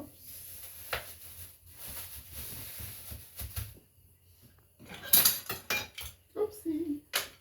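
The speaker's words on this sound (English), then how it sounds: "So I'm gonna be pounding my pork chops." Pork chops pounded flat on a kitchen counter, with irregular thuds and clattering knocks in bursts, some louder impacts near the end, alongside background room noise.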